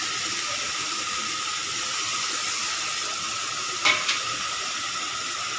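Spices fry with potatoes and aubergine in a pan, giving a steady, fairly loud hiss of sizzling oil with one brief scrape of stirring near the end.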